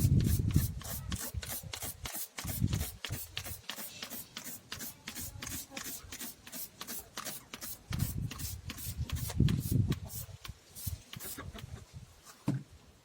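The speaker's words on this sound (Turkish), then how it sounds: "İlk olarak 400'lük zımpara ile başlayacağım." Car headlight wet sanded with 400 grit sandpaper and soapy water, giving close, fast rhythmic back-and-forth rubbing strokes that run continuously and vary slightly in force.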